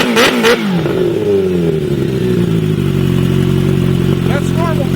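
A Kawasaki Ninja H2 motorcycle engine revs loud and close, opening with a sharp throttle blip and settling into a rough, rumbling idle with small rises in pitch. A voice speaks briefly at the start and again near the end.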